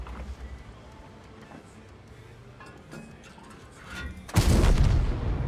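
Tank cannon firing in the World of Tanks video game, a loud broadband blast near the end following a quieter stretch of in-game ambience, with a sustained rumbling tail.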